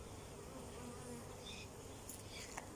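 Honeybees hum in a steady, dense drone around an opened hive, a continuous soft buzz close by with a few brief sharper sounds near the end.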